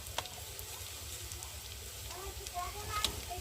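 Onion frying with turmeric in a pan, a soft steady sizzle with faint crackles and occasional ticks, close but quiet, with a low hum underneath.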